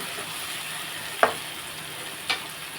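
A tomato and onion masala with ginger-garlic paste for a soya chunk keema curry fries in a pan. It gives a steady close sizzle, with two brief scraping stirs and no voices.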